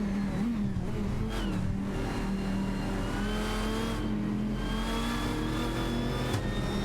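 Race car engines in an AI-driven racing video game, Koenigsegg CCGTs and Chrysler Viper GTSRs, drone and rev steadily throughout with shifting pitch and layered harmonic whine, several cars running close together, loud and continuous with no talk.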